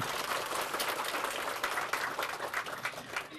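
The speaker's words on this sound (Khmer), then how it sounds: "សូមអបអរសាទរទាំងអស់គ្នា" An audience at a youth-network gathering in Bati district, Takeo province, claps together in a dense, steady crackle of many hands that runs the full length without pause.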